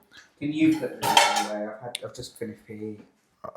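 Dinner plates knocked and stacked as they come out of a home dishwasher, several sharp ceramic clinks and clatters with cutlery rattling, under people talking in the kitchen.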